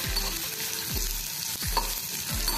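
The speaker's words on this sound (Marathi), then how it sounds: "आता ह्याच्यामध्ये आपण खजूर घालूया आणि हे थोडे परतून घेऊया।" Dates sautéing in ghee in a pan over a low flame, with a steady soft sizzle and a spoon scraping in four regular strokes, close and alone.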